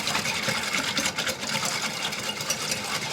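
Box pudding mix and milk whisked by hand in a bowl make a steady, rapid sloshing rattle of the whisk, close and moderately quiet throughout.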